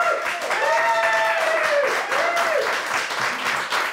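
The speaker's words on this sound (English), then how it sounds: "We're going to do it with a round of applause." A small group applauds after a wrap-making contest, steady clapping mixed with voices calling out and tonal whoops, close and lively throughout.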